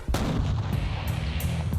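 A rifle shot fired during a hunt, with a Trijicon optic on the rifle, cracks out loudly once near the start, followed by a rumbling tail and faint echoes against steady outdoor noise.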